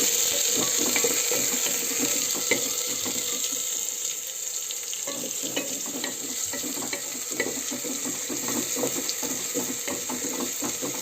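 Onion sizzles and fries in a pan while cooking a mushroom and potato curry, giving a loud, continuous hiss with scraping stirring noises mixed in and no talking.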